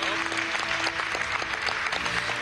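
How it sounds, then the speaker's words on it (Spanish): An audience at a PSUV primary election results announcement applauds briefly, a dense, steady clapping with a faint tone running through the first second. "Aplauso a Meliá"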